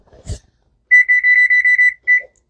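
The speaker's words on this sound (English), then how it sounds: "Timer." A kitchen timer alarm goes off while sourdough crackers cool on racks, sounding a rapid series of bright electronic beeps for about a second before a short final burst, loud and close with no talking.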